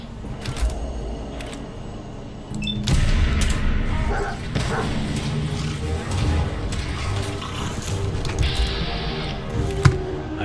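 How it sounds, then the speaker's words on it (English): A dog barking in the video game Fallout 4, a few sharp barks amid busy combat noise and clattering game sounds, mid-distance and fairly loud. "Another dog over there."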